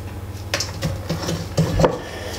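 Diced onion drops into a pan with a few short clattering and scraping knocks, close and moderately loud, with no talking.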